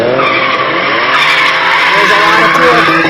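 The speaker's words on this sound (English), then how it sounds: "So a good example would be cars spinning their wheels." A car spins its wheels, tires squealing and skidding in a loud sustained screech layered with engine roar, continuous and close, with a voice talking over it.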